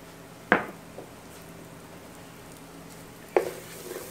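Minced garlic cloves dropped into melting butter and olive oil, giving two brief sizzling bursts a few seconds apart over a low steady frying hiss, close and fairly quiet.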